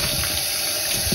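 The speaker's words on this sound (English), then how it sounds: "I'm just going to keep washing this through so the water runs completely clear." Running water rinsing walnut husk dye out of fabric in a sink, a steady close rushing and splashing flow with no voices, continuous for the whole short stretch.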